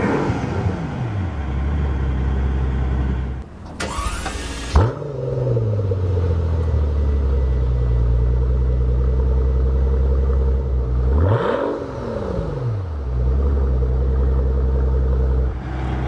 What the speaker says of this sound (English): Gotta love the melodic note of a V12.